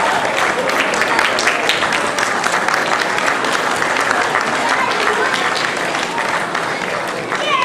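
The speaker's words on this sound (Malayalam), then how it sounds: "എല്ലാവരും ദയവിൽ ഒന്ന് കൈയടിച്ച് പ്രോത്സാഹിപ്പിക്കണം" Sustained applause from an audience at a community event honouring a chef on stage, dense steady clapping that fills the whole stretch at an even level.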